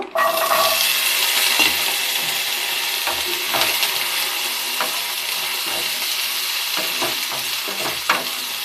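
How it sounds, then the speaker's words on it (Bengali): Grated coconut frying in oil in a kadai gives a steady, loud broadband sizzle with scattered stirring clicks and scrapes throughout, no voices. "তেল দিয়ে দিয়েছি কড়াইতে নারকেলটা একটু ভেজে নেব"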